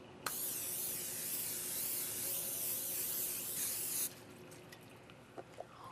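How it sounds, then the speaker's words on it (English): Cooking spray hisses in one long, steady burst onto a grill pan, then cuts off, leaving a few faint clicks and small knocks in a quiet kitchen. "So let me spray our grill pan first."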